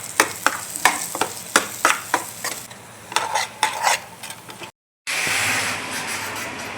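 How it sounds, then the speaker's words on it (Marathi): A spoon stirs a salted, spiced gravy mixture in a pan, giving a run of close, rhythmic scraping strokes over a low sizzle, then a short break and a steadier, louder sizzle and hiss. "एवढं मिक्स करूया सगळं"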